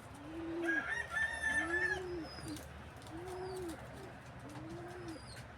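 Pet pigeons kept indoors in a hut in Palawan coo in about four soft, low, rounded calls at an even pace, close by. A brief higher crowing call from another bird rises over the first coos.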